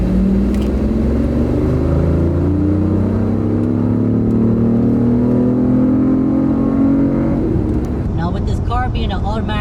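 A BMW i8 accelerates hard onto an interstate on-ramp, its engine note climbing steadily in pitch under a loud, continuous road rumble, with a brief shift or lift near the end.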